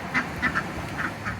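Several quirky pet ducks quacking in December, a handful of distinct nasal quacks spaced irregularly over a quiet background, moderately close and not loud.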